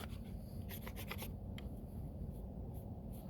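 A sharp blade scrapes shavings off a block, giving a close run of quick rasping strokes, bunched early and then sparser, with soft rubbing between them.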